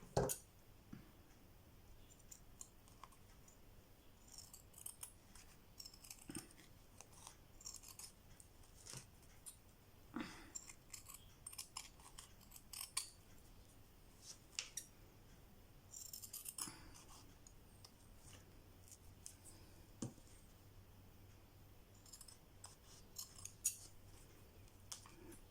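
Scissors trimming a small protruding edge off a cross-stitch or paint-by-numbers craft piece, faint close snips and clicks at irregular intervals over quiet room tone, no talking.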